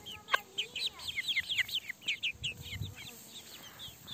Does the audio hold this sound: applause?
no